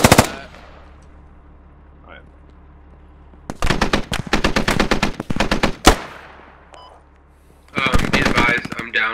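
Mortar rounds and gunfire in the Squad military shooter game, with sharp bursts of rapid repeated shots in separate clusters between quiet gaps, plus one isolated loud crack; a voice speaks briefly early on.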